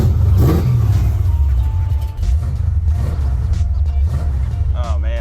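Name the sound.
AMC Javelin muscle car engine revving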